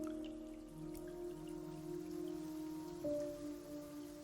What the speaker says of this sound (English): How the fuck is it raining in there?